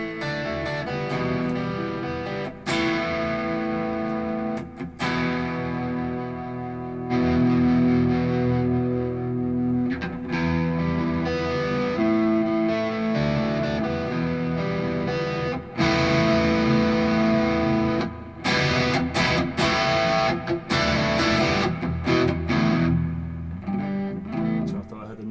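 Electric guitar played through a Hotone Ampero Mini multi-effects unit with the gain turned right down, giving a cleaner but still slightly driven tone; it strums and rings steadily and loudly for the whole stretch, with no talking over it.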